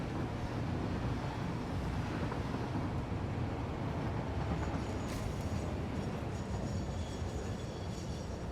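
A train rumbling past in the video game Satisfactory, a steady low roar with a whooshing windy texture throughout, no voices over it.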